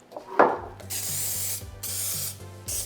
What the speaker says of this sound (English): I'm going to spray it with non-stick baker spray that has flour in it.